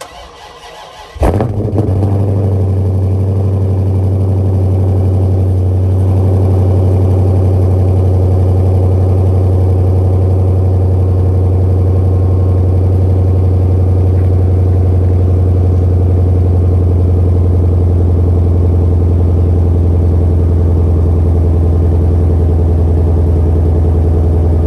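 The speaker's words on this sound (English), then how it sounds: "I'm going to be showing you guys what the exhaust sounds like in negative weather" A Dodge Challenger Scat Pack with a mid muffler delete cold-starts in sub-zero winter weather, cranking briefly, then catching with a loud bark before settling into a deep, steady, rumbling idle that holds for over twenty seconds.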